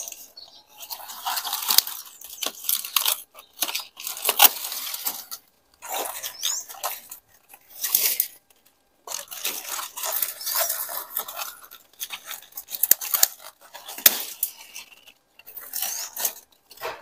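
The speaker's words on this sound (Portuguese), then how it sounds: "E se eu conseguir firmar a tesoura aqui, que dê pra cortar" Pruning shears snipping branches during garden cleanup and pruning in Italy, a series of close, sharp crunching cuts in irregular bursts with short pauses between them.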